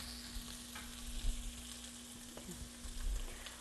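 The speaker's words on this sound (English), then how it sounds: "I'm going to put all this ginger that I have. And you just saute it in this pan." Ginger sautéing in a pan for a vegetable curry, with a faint, soft sizzle and occasional light stirring scrapes under a low steady hum.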